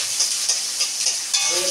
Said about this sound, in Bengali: পেঁয়াজ, কাঁচা লঙ্কা এটা একটু ভাজা ভাজা হবে।